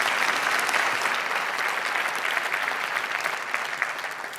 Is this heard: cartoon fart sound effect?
no